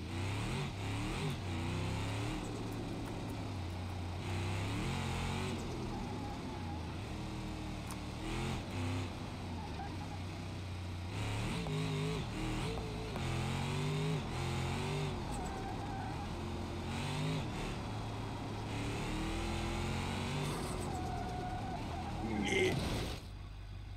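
A powerful car in BeamNG Drive revs and accelerates with whistling turbo noises, its engine pitch rising and falling repeatedly in a loud, continuous drone with no talking.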